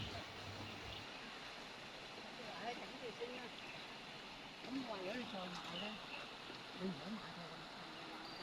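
Fast, swollen stream running along a hiking trail in Hong Kong after heavy overnight rain, a constant rushing wash of water with birds chirping faintly over it.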